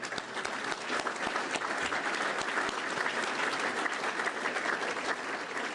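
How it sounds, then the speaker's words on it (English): Steady, dense applause from an audience at a public gathering fills the whole stretch at an even, full level, with no break and no clear voice above it. "let's give them a round of applause."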